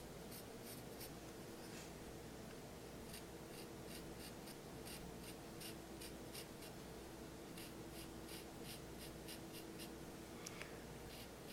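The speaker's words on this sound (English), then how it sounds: "I can pull out the black hairs with my charcoal pencil." Charcoal pencil stroking across paper while drawing fine dark hairs, a quiet run of short, quick scratching strokes in bursts, close and faint with no voice.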